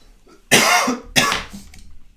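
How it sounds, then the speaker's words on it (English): A man coughs twice during a winter redfish fishing podcast, two loud, close, harsh bursts about half a second apart, followed by quieter breathy throat sounds. "Starting to cough here now that I'm doing the podcast."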